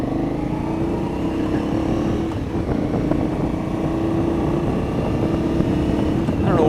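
An Aprilia Shiver 750 motorcycle on the road, its engine droning steadily with a strong low hum and wind noise, a faint pitch rise near the end as it revs.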